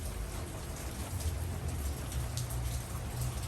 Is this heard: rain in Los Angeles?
yes